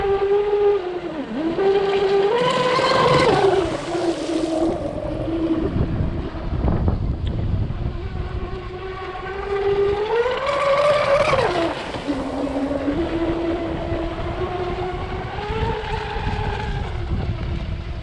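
A Proboat BlackJack 42-inch RC boat runs on a windy lake, its high electric motor whine rising and falling as it throttles up and turns, loud and close with wind buffeting the microphone; no talking.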